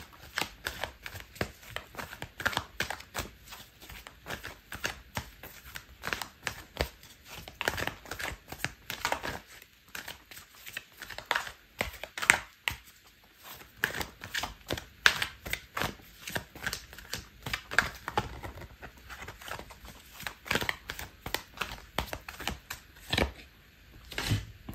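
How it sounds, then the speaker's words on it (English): Tarot cards are shuffled and handled near the microphone for a card pull, making repeated soft flicking and riffling bursts with short pauses, and no speech. "I'm gonna pull out a card for your advice"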